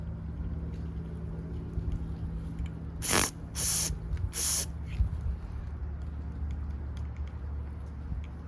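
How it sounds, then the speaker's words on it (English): Carburetor cleaner sprayed onto a Craftsman push lawnmower: three short, close hissing bursts in quick succession over a low steady hum, then quiet again. "Carb spray."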